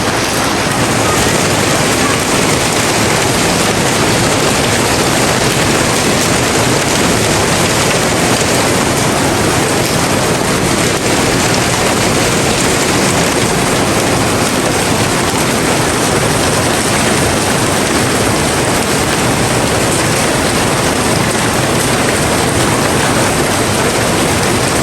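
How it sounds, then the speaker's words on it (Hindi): Small hailstones fall steadily outdoors during a storm in Lahore, giving a dense, even hiss and patter that stays loud and unchanging throughout without letting up. "ये ओले पड़ रहे हैं छोटे छोटे"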